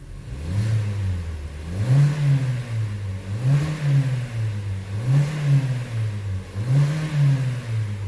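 A 2015 Hyundai Elantra 1.8L engine with an exhaust cam phaser fault revs repeatedly in a steady rising-and-falling pattern, about five close, loud blips with no talking.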